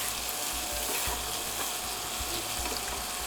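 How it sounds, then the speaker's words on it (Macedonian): Black pepper frying in hot oil in a pan, a dense, continuous close-up sizzle and crackle with scattered small pops throughout, no voices. "Многу сакам кога ќе се пржи биберот. Кога ќе се спои со врелото масло"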